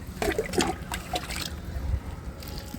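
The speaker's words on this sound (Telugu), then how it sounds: "వాటర్ మొత్తం వాటరింగ్ చేసుకుంటున్నాను" Water poured over a seed tray filled with raw kitchen-waste compost, heard nearby as a few splashy bursts and a steady trickle over about three seconds, with no talk.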